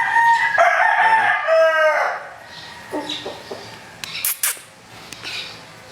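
An Albany Claret gamecock on a game farm crows loudly and up close in one long drawn-out call, followed by softer clucks and scattered small knocks and rustles.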